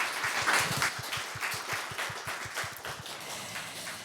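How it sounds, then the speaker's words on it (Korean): An audience at a Seoul urban lighting workshop applauds two panel speakers, a moderate wash of clapping that fades gradually, with rhythmic low thumps running underneath. "여러분 좋은 말씀 해주신 두 분께 큰 박수 한번 부탁드릴까요?"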